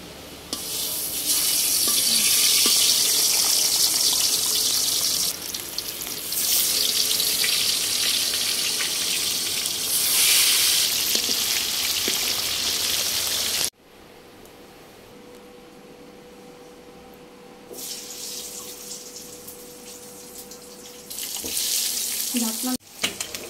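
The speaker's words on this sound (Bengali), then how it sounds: "আমরা এখন মাছ ভাজবো কাতল মাছ তেল দিয়ে দিচ্ছি" Catla fish fries in hot oil in a heated wok, a loud continuous sizzle and hiss that drops away abruptly midway and then flares up again toward the end.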